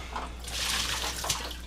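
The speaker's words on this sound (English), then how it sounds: "Okay, so we'll go ahead and rinse that out." Distilled water sloshes and splashes while a Levoit LV600HH humidifier tank is rinsed out, a steady close wash of running liquid with a few sharper splashes, no talking.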